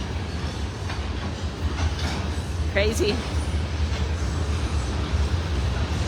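A train rolls past nearby with a continuous heavy rumble and clatter of wheels on rails, while a person speaks briefly over the noise.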